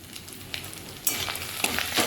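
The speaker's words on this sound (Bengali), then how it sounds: "এটা একটুখানি হালকা হাতে নেড়ে নিলাম" Coriander powder and ground black pepper are stirred in a hot frying pan for vegetarian biryani, a steady close sizzle with scraping stirs that grows louder partway through, no voices.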